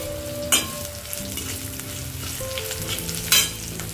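A spoon stirs turmeric and jaggery through hot oil in a pan, a continuous sizzle with a couple of sharp scraping clicks from the utensil against the metal.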